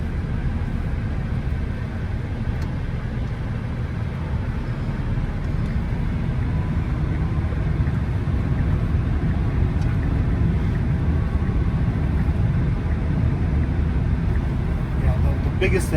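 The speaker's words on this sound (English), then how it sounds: "So I barely touched the accelerator, and here we go, Right? matching the speed of the highway" A Tesla Cybertruck picks up speed to match highway traffic, a steady low road and wind roar filling the cabin throughout, while people talk inside.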